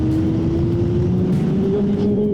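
A 2024 Honda CBR600RR motorcycle engine pulling hard on a wet track, a loud steady drone with the pitch climbing gradually as it revs up, close and continuous without talking.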